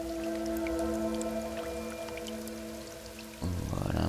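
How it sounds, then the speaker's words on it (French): Rain falls in the survival video game The Forest as a steady soft patter under sustained musical tones, ending in a sudden, denser burst of noise in the last second. "Ah bah zut, il commence à pleuvoir."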